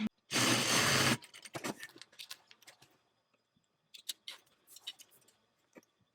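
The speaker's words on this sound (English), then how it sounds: "I'm going to stitch across here just like I did with the bobber" A sewing machine stitching across a tote bag, one loud dense burst of rapid motor whirring lasting about a second, then quiet fabric handling with light ticks and clicks.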